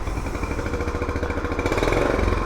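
A 1984 Honda Trail 110 motorcycle engine idling steadily nearby, its even, lawnmower-like putt-putting exhaust thrumming with a slight rise toward the end.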